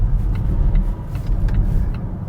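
A 2021 Volvo XC40 Recharge electric SUV with dual motors and 402 horsepower accelerates, giving a steady, loud low rumble of road and tyre noise from inside the cabin, with no engine note.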